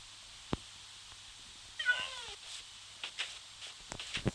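A single Minecraft cat meows with a wavering, descending cry, preceded by a sharp click and followed by scattered soft clicks and taps.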